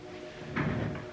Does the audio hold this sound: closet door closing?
yes